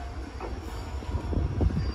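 A JR Hokkaido H100 diesel railcar, unit H100-13, rolls along the rails at a station passing loop, a steady low rumble with rising wheel clatter and rail noise close by, no talk.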